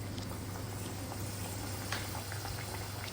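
Bread pieces frying in hot sunflower oil, a dense, even bubbling hiss that holds steady throughout, fairly quiet and with no talking.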